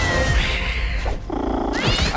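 A cat meows twice, close and clear, with drawn-out plaintive calls over a noisy background.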